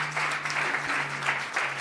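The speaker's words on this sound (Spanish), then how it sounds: "Den un aplauso al Señor." A church congregation applauds together in a steady, dense wash of clapping that fills the room, with a low sustained tone humming underneath throughout.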